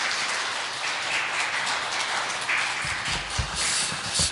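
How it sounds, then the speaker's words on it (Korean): Broad, steady clapping from a church congregation for the youth group during a Sunday service, a dense wash of hand claps filling the room without pause and growing slightly stronger near the end. "청년부에게 다시 큰 격려의 박수 부탁드립니다."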